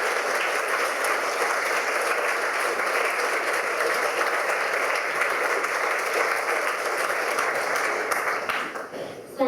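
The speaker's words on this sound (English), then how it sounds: "giving them a round of applause" Sustained applause from the audience at a Victoria College Belfast prize night, steady and dense throughout before thinning and fading at the end.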